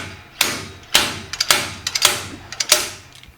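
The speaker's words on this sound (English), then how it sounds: "but you're gonna get your slide hammer" Repeated sharp metallic impacts from a slide hammer pulling the rear axle bearing and seal out of a Ford 8.8 rear end on a 1999 F-150, about six distinct blows at an uneven rhythm, close and loud with no talk.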